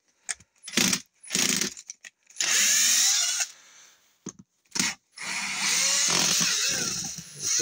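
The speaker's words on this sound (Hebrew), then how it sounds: "נסגר אותו עם ברגים." A power screwdriver drives screws into a beehive box in several short whirring bursts and a few longer ones, close and loud, with small clicks and knocks between them.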